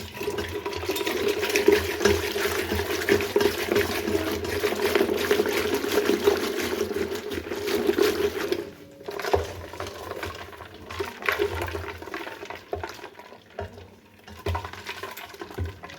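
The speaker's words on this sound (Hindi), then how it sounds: "ये मदानी से लस्सी बनाते हैं हम और इससे मैं मिक्स करूँगा" A wooden madani churner whisks sattu sharbat, giving a continuous wet sloshing and swirling of liquid. It stays fairly loud and steady, then briefly drops out and resumes in choppier bursts.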